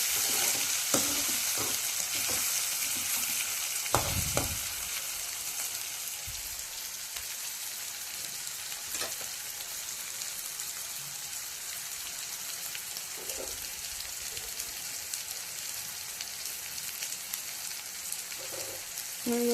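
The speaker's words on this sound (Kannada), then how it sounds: "ಟೊಮೆಟೊ ಈ ಥರ ಕುದೀತಾ ಇದೆ. ಹಿಂಗೆ 2 ನಿಮಿಷ ಫ್ರೈ ಮಾಡಬೇಕು." Tomatoes frying in a pan for lemon rice, a continuous crackling sizzle with scattered bubbling pops and occasional utensil taps, steady and close, with no talking.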